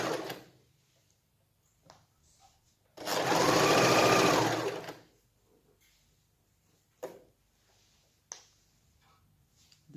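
A sewing machine stitching pin tucks on a top runs in one steady, close burst of about two seconds, surrounded by quiet handling clicks and taps.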